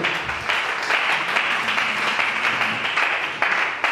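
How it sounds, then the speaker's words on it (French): A church congregation gives steady, dense applause for the whole stretch, loud and close, with many hands clapping together and no voices standing out. "acclamons pour la gloire de Dieu"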